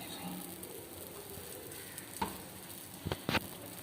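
Chicken sizzles in a hot pan for a homemade burger, a steady crackling fry with a few sharp clatters of utensils toward the end, close and moderately loud.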